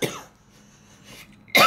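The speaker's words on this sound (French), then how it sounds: "je vais tousser un petit peu" A woman coughs as she recovers from Covid: a faint cough or throat-clear at the start, a softer rasp near the middle, then one sharp, loud cough at the end, close up with no talk.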